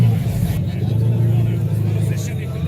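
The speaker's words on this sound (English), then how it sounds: "we just got the startup of a McLaren Senna" A McLaren Senna engine starting and settling into a deep, steady, close rumble that holds throughout.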